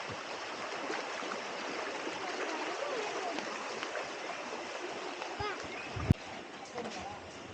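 A rain-swollen stream flows right beside a house in Kerala during the monsoon, making a steady, continuous rush of water at moderate distance, with one sharp knock near the end.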